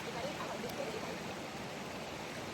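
A river at Spanish River Cove in Portland flows with a steady, even rush of water that fills the whole stretch at moderate volume.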